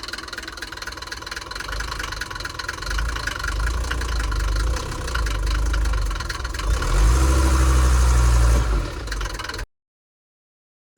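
A Mercedes T1 310D diesel engine runs cold with its engine cover on, giving a steady close knocking idle that swells louder toward the end before cutting off abruptly.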